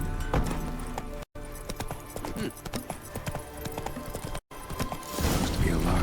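Hooves of Roach, the horse in The Witcher 3, pound in a quick galloping clip-clop rhythm, loud and close, with a brief snort and game sounds around it.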